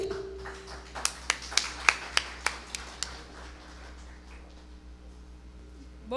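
A handful of people at a cocktail celebrating an orchestra's 25th anniversary give brief applause, about nine sharp separate claps in a quick row over a low steady room hum, then fading into quiet murmur.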